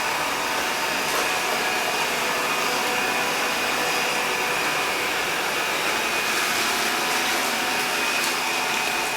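ILIFE A4 robot vacuum running at maximum suction while cleaning a messy room, a loud, constant close-up whine and airflow roar that continues without a break.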